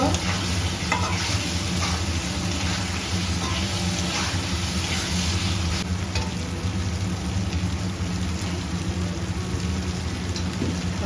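Potatoes sizzle and fry steadily in a pan for a fish kalia, a constant dense crackle with the occasional scrape of stirring, no voices.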